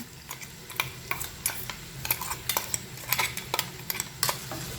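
Crushed ginger, garlic and green chili are stirred into frying onions for egg biryani, with repeated sharp clinks and scrapes of a spoon against the pan over a soft sizzle.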